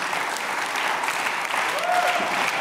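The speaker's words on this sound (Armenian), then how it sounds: "Եկեք ծափարենք դուետին։" An audience applauds a comedy duo with steady, dense clapping that fills the whole moment at an even level.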